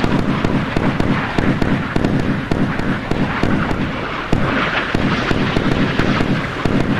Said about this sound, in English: They're trying to shoot us down with airburst.